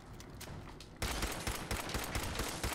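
Rapid gunfire from a weapon in Fallout 4, a loud sustained burst of closely spaced shots that erupts after a quieter opening second and keeps pounding to the end.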